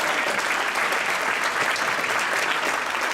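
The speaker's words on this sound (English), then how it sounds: "we can get a round of applause for Jen" Steady, dense applause from an audience at a fifth grade band concert, filling the whole stretch evenly with no speech on top.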